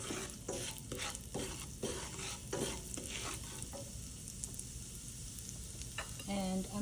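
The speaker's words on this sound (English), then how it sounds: "Now I'm adding a little bit of urad dal, about, I would say, 1 teaspoon of urad dal." Urad dal, about a teaspoon, sizzles and crackles in hot oil on a medium flame for a tadka for bhindi, with steady frying noise and a few stirring scrapes, close and fairly quiet.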